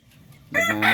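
A mature rooster on a Filipino backyard farm calls once, a short loud crow that bursts in halfway through after a quiet start.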